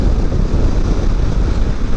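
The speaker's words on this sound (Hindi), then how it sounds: "दूर दूर तक ठंडी हवा चल रही है" Strong wind buffets the microphone during a solo motorcycle ride on the road from Faisalabad to Lahore, a loud, steady low roar that fills the clip with no one speaking.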